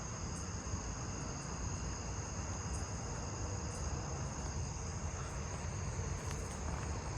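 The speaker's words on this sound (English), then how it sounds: "There's all those greater angle wings again." Greater angle-wing katydids call in a night chorus, their repeated ticking pulses spaced at regular intervals above a steady, dense wash of cricket trilling from many insects at a distance.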